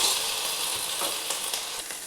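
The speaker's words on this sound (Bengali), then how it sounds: "এখানে আমি 3 চামচের মতন আদা রসুনের পেস্ট দিলাম। এটাকেও ভালো করে ভেজে নিচ্ছি।" Ginger garlic paste, about three spoonfuls, sizzles steadily in a hot pan for chicken korma, a continuous bright frying hiss with faint stirring scrapes.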